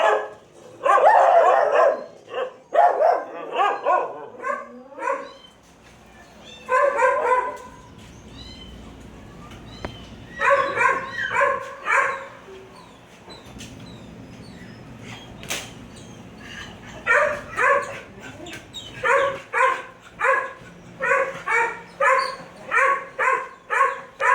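Several dogs bark repeatedly inside an animal shelter's stray hold building, loud bursts of overlapping barks and yips coming in clusters with short pauses between them.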